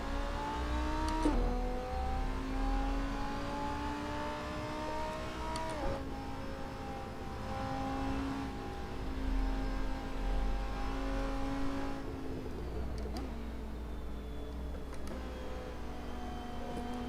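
Race car engines in a VR sim racing game with 14 cars on track, a continuous loud engine drone rising in pitch through gear changes, with repeated shifts and revving across the whole stretch and no talk.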